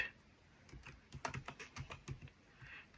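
Quiet, close keystrokes rattle on a computer keyboard in an irregular run while code for an ESP32 board is typed.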